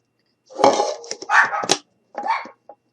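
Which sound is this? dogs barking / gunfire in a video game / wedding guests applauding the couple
dogs barking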